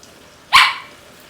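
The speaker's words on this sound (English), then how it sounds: "And that's my dog." A single dog bark rings out close by in a home kitchen during cooking, one sharp burst that fades quickly over a quiet background.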